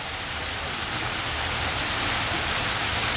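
Water from waterfalls and sprinklers in a zoo's giant Galapagos tortoise exhibit, a loud, steady broadband rush of falling and spraying water, close and unbroken, with no voices.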